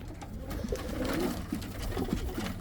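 Domestic pigeons coo repeatedly in a pet loft, low throaty calls rising and falling over a steady background murmur, close and moderately loud.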